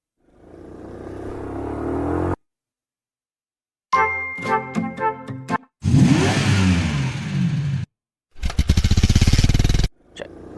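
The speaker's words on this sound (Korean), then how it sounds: "사운드 효과에서 바이크를 쳐보세요" A motorbike engine effect from a sound library, played as separate bursts of revving and roaring with gaps of silence between them, loud and close with no voices.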